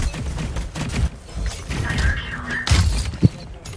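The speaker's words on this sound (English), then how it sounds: "Rapid fire, mantap." Rapid gunfire in the shooter Valorant: fast bursts of shots with sharp cracks and crashing impacts, fairly loud and close, and a few heavier thuds near the end.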